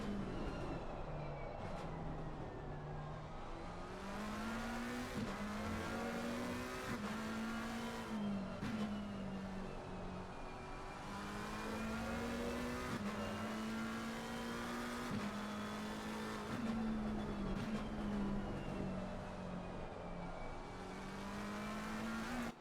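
A race car engine at Brands Hatch in the Assetto Corsa Competizione video game drones loud and close from onboard, steadily revving up and down through gear changes over a long lap stretch.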